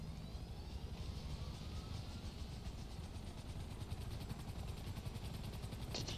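Helicopter in the GTA 5 video game during a Smuggler's Run cargo mission, a steady low rotor thump and engine drone, continuous and fairly close, with no speech.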